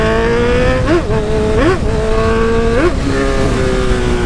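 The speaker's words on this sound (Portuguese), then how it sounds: "Estourando tudo, escape." A 2020 Honda CB1000R motorcycle exhaust pops and crackles in several short, loud bursts over a steady, close engine drone as the bike accelerates on the road.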